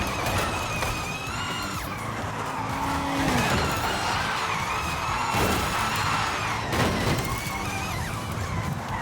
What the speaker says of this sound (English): Come on, sick drift, let's go.